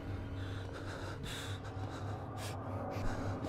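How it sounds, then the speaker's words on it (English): Loud, heavy breathing from a player in a tense dungeon horror game in VR, steady and close with a sharp gasp partway through, no speech. "I'm breathing really fucking loud right now"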